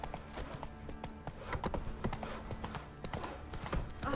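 A horse gallops in The Witcher 3 video game, rapid hoofbeats clopping in a steady rhythm, fairly near, with faint background ambience.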